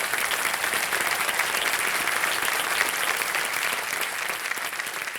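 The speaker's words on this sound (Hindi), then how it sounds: "इतने लोग ताली बजा रहे हैं" Studio audience applauding on a Hindi television quiz show, dense sustained clapping from a large crowd, loud and even throughout with no talk over it.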